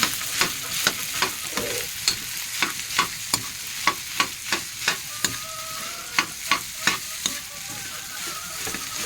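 Leftover rice, including the crispy scorched crust, frying in a pan for Filipino garlic fried rice, with a steady sizzle broken by regular scraping stirs of a spatula about twice a second, close and clear with no talking.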